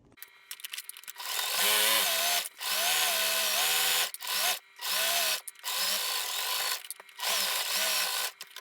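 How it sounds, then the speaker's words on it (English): A sewing machine stitches over the layered hems of a waist apron in several close, loud bursts of rapid mechanical whirring, with short pauses between runs. "as we're sewing over all of these layers over both hems"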